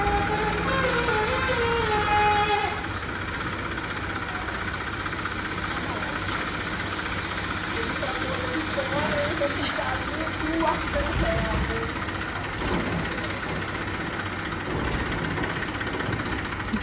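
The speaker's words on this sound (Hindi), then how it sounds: "साथ में एक आप गाड़ी की घर की आवाज़ सुन रहे हैं, ये कचरा उठाने वाली गाड़ी है।" A garbage collection truck idles on a residential street in Bengaluru, its engine rumbling steadily throughout while a person talks over it.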